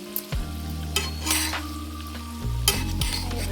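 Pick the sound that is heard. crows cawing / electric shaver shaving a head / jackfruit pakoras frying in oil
jackfruit pakoras frying in oil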